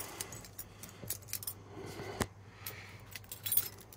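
A bunch of keys jingling and clinking close by, with scattered metallic rattles and one sharper clank, no voices.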